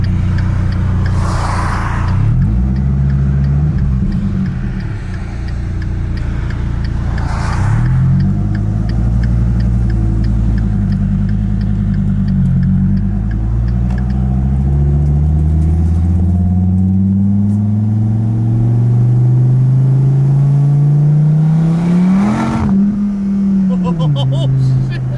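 A Dodge Viper ACR Extreme driven hard, its engine roaring loud and close as it revs through repeated rising and falling gear pulls, then climbs into a long, sustained surge. Excited voices talk over it throughout.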